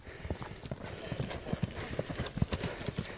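Horse hooves clip-clopping in a quick, steady rhythm at moderate distance as the horse is driven with a whip, with faint background activity.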